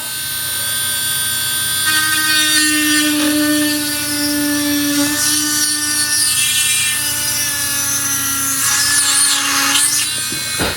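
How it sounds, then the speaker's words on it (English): A steady high-pitched whine of a small rotary drill runs continuously, with faint grinding as it bites into a holographic cross charm while drilling a hole. "I just try to drill a hole."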